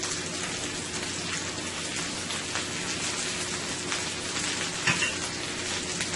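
Ginger, garlic and scallions stir-frying with chicken for a Chinese chicken, broccoli and cabbage stir-fry, a dense steady sizzle like rain with occasional stirring, close and continuous.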